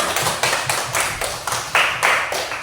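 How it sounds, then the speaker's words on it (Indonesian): A group of people in a classroom clap their hands together in a brisk, rhythmic pattern of about ten distinct, fairly close claps. "Tepuk tangan dulu untuk kita semua."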